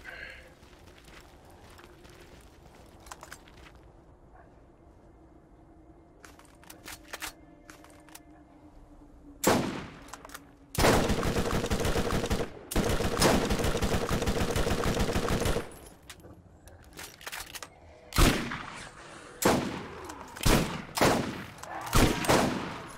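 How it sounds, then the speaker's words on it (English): Gunfire in the video game Borderlands, a loud sustained burst of rapid shots followed by several separate shorter volleys, with quieter game ambience before. "every time I shoot, you shoot"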